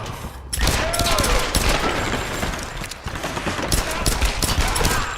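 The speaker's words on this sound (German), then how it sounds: "da schießt wieder der mit dem Maschinengewehr" Sustained automatic machine-gun fire in the Tomb Raider video game: dense, rapid bursts rattle almost continuously for about five seconds after a brief quiet start, loud and close, with a voice briefly under it.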